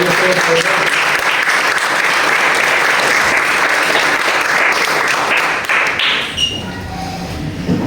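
A church congregation claps loudly together in steady, dense applause that fills the room, then thins and trails off near the end.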